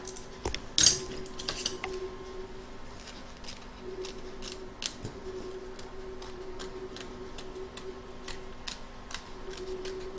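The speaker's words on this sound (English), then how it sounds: "You're now going to trim up the excess fabric from around the top of the pudding, both back and front of your hoop." Scissors trim excess fabric from around an in-the-hoop embroidered Christmas pudding ornament, giving a run of crisp, irregular snips close by with a faint steady hum underneath and no talking.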